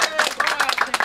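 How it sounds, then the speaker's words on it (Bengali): Clapping for a man who bought a cow at the Gabtoli cattle market, a short burst of several quick claps from a small group, close and fairly loud, with voices mixed in. "ভাই হাততালি হয়ে যাক"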